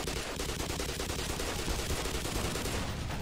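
Dense rapid gunfire from the video game Black Mesa, with overlapping shots forming a continuous burst of crackling bangs that fills the whole stretch, with no voices over it.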